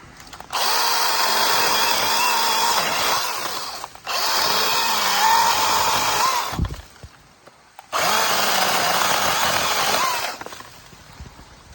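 A Makita DUC150 cordless mini chainsaw cuts through a branch in three bursts of loud, steady buzzing, with short quiet pauses between cuts, heard up close and alone.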